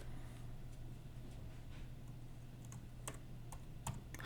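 Soft keystrokes on a computer keyboard, a faint, scattered run of light clicks with a few sharper taps toward the end, set against a low steady hum.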